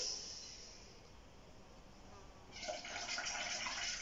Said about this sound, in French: Je fais des grosses bulles.